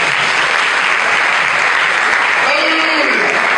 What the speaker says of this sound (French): Est-ce que vous ne pouvez pas acclamer pour l'araignée?